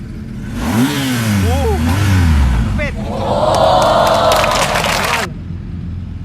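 BMW 250 motorcycle engine revving loudly in bursts, rising and falling vroom close by, with a crowd talking and shouting over it.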